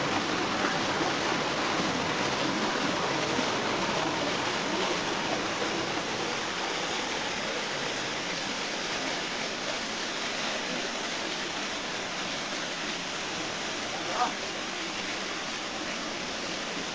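A stream used for bathing rushes steadily, with loud, continuous broadband water noise close by throughout and no voices.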